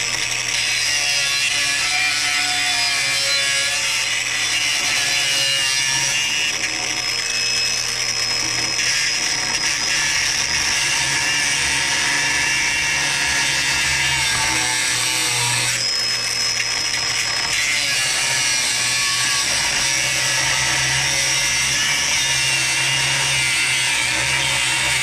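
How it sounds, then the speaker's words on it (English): A Milwaukee cordless grinder running on a large HD12 battery grinds a Harley power rake part, a steady loud abrasive whine that holds for the full stretch with slight shifts in pitch as the disc bites the metal. "let me get the grinder and grind on this part right here"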